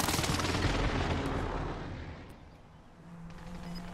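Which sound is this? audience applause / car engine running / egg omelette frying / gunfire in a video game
gunfire in a video game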